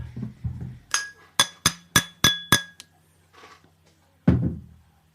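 An empty drinking glass is struck against various objects, giving a quick series of six bright, ringing clinks followed by a louder final knock, close and clear with no talking.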